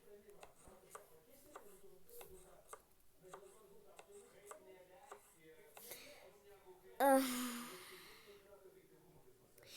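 Food is chopped on a board in a home kitchen with a quiet, regular series of knife taps, about one per second. A short loud clatter and rustle follows near the end.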